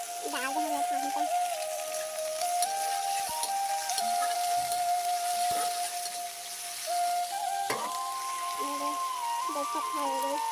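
Spices, onion and potato sizzling in hot oil in a home kitchen, a continuous soft frying hiss running beneath someone talking throughout.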